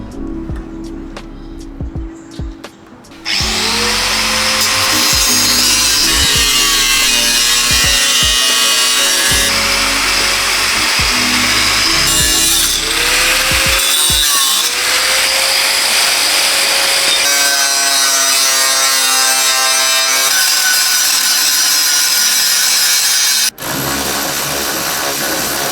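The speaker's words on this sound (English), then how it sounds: "let's grind it off first, which is over here" A power tool grinds off a metal seat bracket in a Proton Saga during a bucket seat install, a loud sustained whine with shifting pitch running for about twenty seconds after brief quieter handling noises, ending abruptly near the close.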